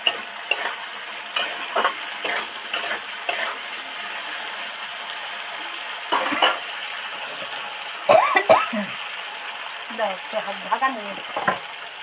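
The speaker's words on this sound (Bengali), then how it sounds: "ঢেঁড়সগুলো যাতে তাড়াতাড়ি ডিপ ফ্রাই করে ভাজা হয়ে যায় তার জন্য একটু লবণ অ্যাড করব।" Okra deep frying in oil, a steady low sizzle broken by repeated scraping and clattering stirs, close by and fairly loud, with no talking.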